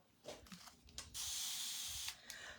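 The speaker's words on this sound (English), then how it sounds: "I like to spray some water in, some distilled water in my paste" A few soft clicks and rustles, then a sustained hissing burst of spray from a spray bottle misting distilled water into paste, lasting about a second, followed by a short second spritz.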